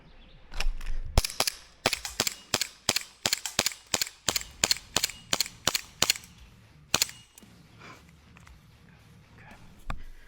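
Airsoft pistol fired in a fast shooting drill: a rapid string of about fifteen sharp, close, loud cracks in quick rhythm, then a pause and one more shot, with faint handling noise between.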